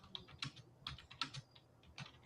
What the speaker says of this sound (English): I hear somebody typing away.